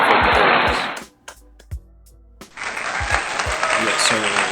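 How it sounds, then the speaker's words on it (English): Applause from a podcast audience: a burst of clapping rings out for about a second, drops to near silence with a few stray claps, then swells back into sustained, fairly loud clapping. "Let me get a hand clap for the therapist."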